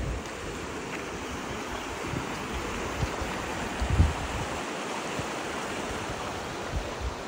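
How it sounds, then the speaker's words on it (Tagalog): Raparapahoe Falls waterfall pouring in a steady, broad rushing roar from a short distance, continuous and even with small surges, no talking. "Ayun yung falls doon."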